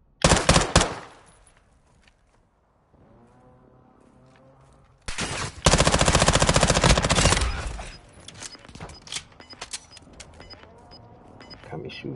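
Automatic gunfire and shots in the video game Call of Duty Warzone 2, loud bursts at the start and a dense stretch of firing midway, with quieter game sounds and a voice in between.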